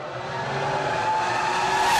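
Formula 1 cars from McLaren and Renault at the 2005 race start, a loud, sustained high engine whine that rises steadily in pitch and volume as the cars accelerate.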